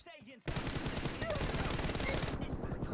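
Rapid automatic gunfire in PUBG Mobile, a dense continuous burst of shots lasting about two seconds, loud and close, with a brief voice just before it starts.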